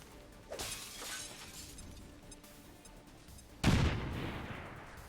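An armor-piercing grenade detonates in XCOM 2 with the Long War of the Chosen mod, a faint crack early on followed by a loud, close blast with a crashing, shattering tail that fades slowly.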